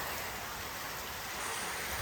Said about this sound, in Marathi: अचानक पाऊस पडायला चालू झाला बघा